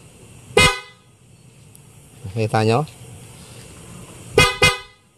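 Loud, close horn blasts from a Bajaj Dominar 400cc motorcycle's installed loud horn: a short honk, a longer wavering blare, then a quick double honk, with brief talk between.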